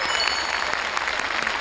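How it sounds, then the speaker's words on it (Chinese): A studio audience at a Chinese television variety show claps warmly, a steady, full burst of applause from many people with no break. "我觉得大家还要把更热烈的掌声给她。"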